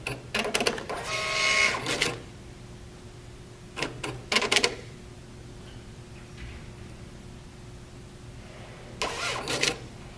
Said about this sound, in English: First thing we're going to do is a self-test, which is done by holding down the feed button on the front of the printer while turning the printer on.